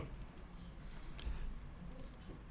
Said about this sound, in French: vous tapez ici 22, touche entrée